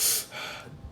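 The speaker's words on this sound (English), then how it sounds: "Yogic breaths, diaphragm, 2 diaphragm breaths." A single sharp, strong breath drawn in through the nose and mouth for yogic diaphragm breathing, close and loud, easing into a softer airy exhale within about a second.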